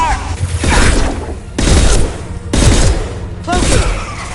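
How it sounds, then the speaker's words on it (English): Heavy gunfire from the video game Mass Effect 2: loud, dense bursts of shots and booming blasts arrive in four roughly one-second waves, with brief lulls between them and faint voices mixed into the battle. "Look, they're taking heavy fire!"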